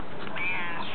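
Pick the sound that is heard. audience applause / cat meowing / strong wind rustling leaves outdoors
cat meowing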